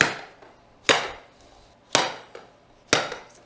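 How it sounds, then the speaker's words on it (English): Three sharp, evenly spaced hammer blows on a wooden dowel used to knock out a motorcycle exhaust spark arrestor, each crack ringing briefly, with faint lighter taps between them. "I'm going to slide a dowel in from the other side and try to push that out"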